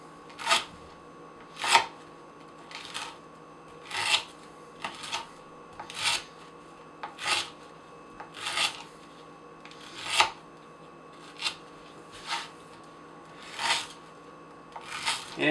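A Spyderco Paramilitary 2 knife with an S30V steel blade slices through rope in a series of regular, evenly spaced cuts, each a short rasping swipe with a quiet pause between, close and clear with no talk.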